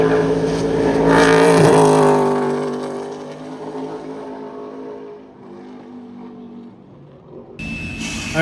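Race cars practicing at Berlin Raceway roar loudly at first, then fade into a steady distant engine drone with outdoor ambience.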